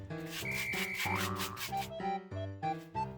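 A Mi Vacuum Mop 2 Pro cleans a floor, giving quiet repeated rubbing and scrubbing strokes with tonal motor whines rising and falling between passes, close but soft.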